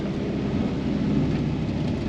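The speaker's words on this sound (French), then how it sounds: "Il pleut." Steady, dense rain noise with a low rumbling wash underneath, constant and fairly close.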